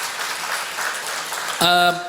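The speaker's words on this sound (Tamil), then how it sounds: "4 பேருக்கு ஒரு நல்ல கைத்தட்டில் கொடுத்துருங்க" Audience clapping at a talk at the 2025 Madurai book fair builds as a spread of scattered hand claps, followed near the end by a brief tonal chime-like sound.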